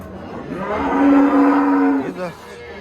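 A dairy cow at a cattle market in Kyzylorda gives a single long, drawn-out moo close by. It swells to full strength and then trails off into a short lower grunt.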